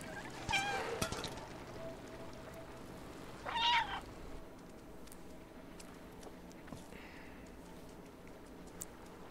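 A cat in the video game Stray meows twice, a short cry early and a longer one a few seconds later, over quiet ambient game sound.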